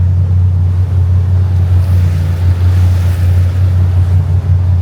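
Sea-Doo personal watercraft engines droning steadily on a lake, a loud continuous low hum mixed with wind and water wash, no voices.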